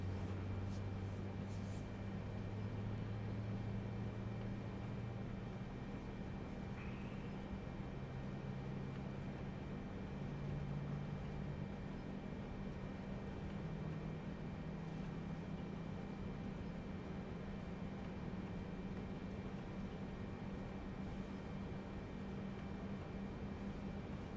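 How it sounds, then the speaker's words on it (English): Jet engine number three of a cargo aircraft spools up at departure, a steady loud broadband roar with low droning tones that rise and shift, continuous throughout with no talk. "Engine 3 spooling up."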